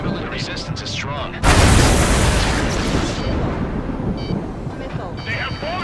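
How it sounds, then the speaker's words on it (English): A massive bombing explosion in the Ace Combat 7 video game bursts in with a loud roar and rumbles on for seconds, with radio chatter voiced before and after. "They're bombing us."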